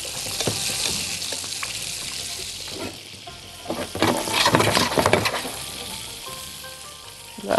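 Food fries loudly in a pan of oil and butter while being stirred, a steady close sizzle swelling with bursts of scraping and spattering, no voices.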